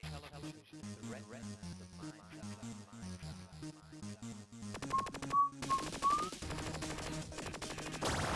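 Rapid laser shots fire in Tempest 2000 on the Atari Jaguar, a burst of zaps and electronic bursts rising out of a pulsing synth soundtrack in the second half, loud and continuous.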